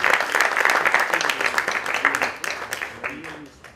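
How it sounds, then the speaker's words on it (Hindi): An audience applauds at a Hindi stage play, a dense burst of clapping that fills the room and then thins out, with a few louder claps near the end. "इसके लिए हम लोग थैंक्स आपको ताली बजा के दे रहे हैं"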